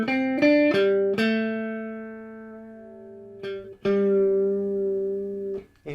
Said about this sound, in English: You hear how the note, you can hear the tuning going north and south